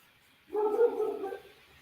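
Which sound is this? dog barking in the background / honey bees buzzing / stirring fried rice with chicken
dog barking in the background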